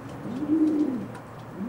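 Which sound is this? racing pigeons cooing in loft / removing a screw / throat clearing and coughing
racing pigeons cooing in loft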